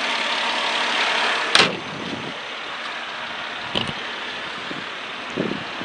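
A 1998 Mercedes-Benz C280's 3.2-liter six-cylinder engine idles steadily at a moderate level, with a broad, even hum and a couple of brief clicks or knocks along the way.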